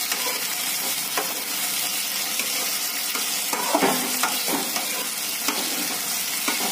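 Chicken masala sizzles loudly in a pan while being stirred, a dense hiss broken by repeated scraping and clanking of the spoon, close up and with no one talking.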